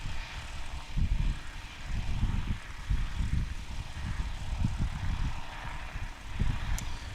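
A STOL light propeller airplane takes off at a swamp STOL practice in Jennings, Louisiana, its engine droning faint and distant in pulsing low surges under steady outdoor wind noise.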